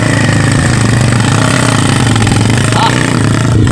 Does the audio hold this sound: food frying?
no